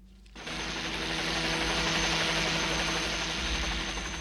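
A helicopter in flight roars with a loud, steady engine and rotor drone that swells in after a quiet start and holds full and continuous, close by, with no speech.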